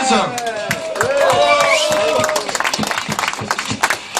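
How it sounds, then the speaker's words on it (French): An audience applauds a champion at a competition finalists' presentation, a burst of clapping and cheering that thins into scattered claps, with a voice speaking over it at first. "Je vous demande de l'applaudir bien fort"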